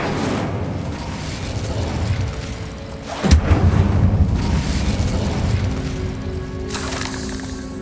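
A fiery Incendio spell blast in Hogwarts Legacy bursts out sharply with a booming hit, followed by a few seconds of rumbling roar over a steady background of game ambience.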